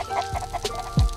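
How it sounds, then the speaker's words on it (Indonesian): Backyard chickens clucking near a small vegetable plot where corn is being planted and watered, with a few short clucks scattered through the moment and one louder, lower squawk near the end. "Ayam gue itu masih berisik ya."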